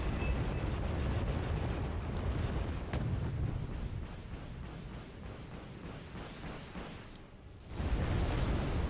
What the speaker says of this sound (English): And it's an napalm arty.